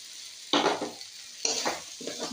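Fried potatoes being stirred into hot masala cooked down in oil, two or three short scraping stirs with sizzling bursts between quieter pauses, close and alone.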